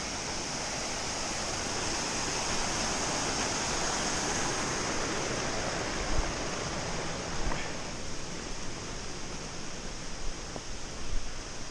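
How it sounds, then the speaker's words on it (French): Mountain river flowing, heard along a trail race route in the Vosges: a broad, continuous rushing wash of water, steady and fairly close, with a few faint knocks and scuffs near the end. "Jolie rivière."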